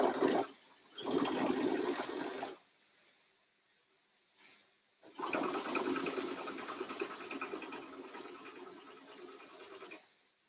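Sewing machine stitching the side seams of a child's skirt tier, close, steady whirring runs in three bursts, a short one, another, then a long stretch, with pauses between.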